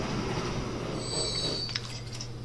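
A train pulls into a station in the video game Transport Fever, a low steady rumble of rolling wagons topped by thin, high wheel squeals and brief metallic screeches toward the end.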